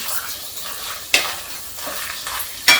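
Spices frying in a pan with black chickpeas for a Bihari-style curry, with turmeric, coriander and red chili powder, sizzling steadily while being stirred, with two sharp scraping clinks.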